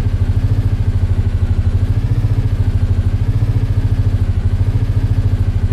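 A modded Minecraft car engine idles with a steady, rapid mechanical chugging as the car is parked, loud and continuous with no other sounds.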